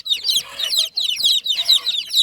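A group of young chickens cheeps in a poultry cage, rapid high chirps overlapping in quick bursts, close and busy for about two seconds.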